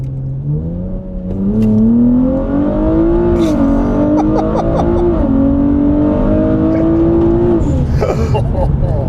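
A 650-wheel-horsepower Nissan Z with upgraded turbochargers accelerates hard through a pull, its engine note climbing steadily in pitch across several gears with brief dips at the shifts. The sound is loud and continuous, recorded from inside the car.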